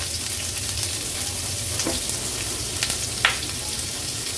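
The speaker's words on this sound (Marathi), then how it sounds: "फोडणी थोडी तडतडली की आपण हा कांदा ऍड करूया।" Onion dropped into a sizzling tempering of green cardamom, cinnamon and bay leaf in hot oil, a steady close frying hiss with a few brief crackles and stirring scrapes, no talking.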